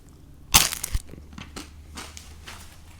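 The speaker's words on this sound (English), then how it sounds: "So you can hear the crisp on the edge" A bite into crispy pizza crust at Nicli Pizzeria gives one sharp, close crunch, followed by a few softer crackles and muffled chewing.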